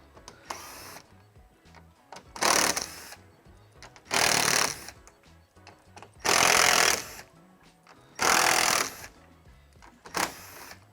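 A power tool removing bumper bolts on a 2018+ Mustang, five loud whirring bursts each about a second long, separated by short pauses with faint clicks and handling noise in between, close and otherwise quiet with no talking.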